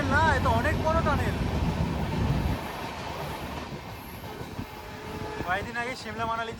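A train rumbles loudly along the track, the heavy roar dropping abruptly as it enters a large tunnel, followed by a muffled, hollow rumble inside, with brief voices heard.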